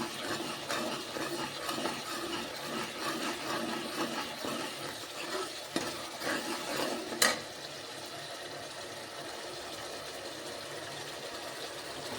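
Masala frying in ghee for a Punjabi pumpkin curry gives a steady, close sizzle with soft scraping from stirring, and one sharp clink partway through.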